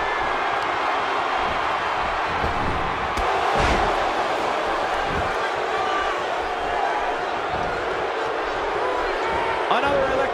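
A WWE 2K17 SmackDown arena crowd roars steadily for a handicap match, a dense sustained cheer with game commentary running over it.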